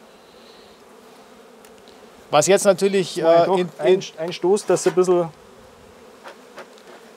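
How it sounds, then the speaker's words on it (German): Honeybees hum on a hive frame in a low, steady, faint drone, while people talk close by over it for several seconds. "Da sind trocken so viele Bienen drauf."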